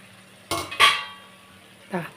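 A spoon clanks against a pot while fried chicken is mixed into biryani masala, making three sharp metallic scrapes and clinks that ring briefly over a quiet background.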